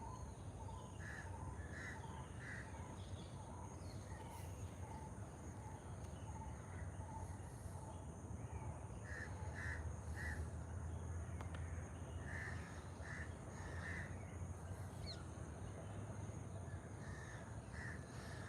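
Crows caw repeatedly at a Colombo cemetery on a still tropical morning, harsh calls recurring steadily across the whole stretch over a constant background hum of insects and distant ambience.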